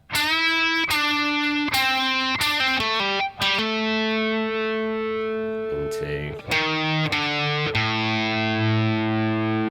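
Electric guitar with distortion and effects playing segments of a solo, loud sustained notes and bends in phrases with brief pauses between them, heard alone and up close.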